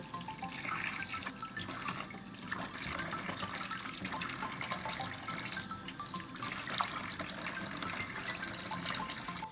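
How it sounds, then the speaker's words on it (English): Water runs steadily from a tap with soft splashing and sloshing as tie-dye shirts are rinsed under it, close by and unbroken. "Now we are going to rinse them."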